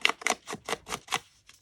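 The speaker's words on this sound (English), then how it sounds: "just cut off the white part" Scissors snipping through paper to trim off a white edge for a junk journal page, a quick run of about six crisp, close cuts in a steady rhythm.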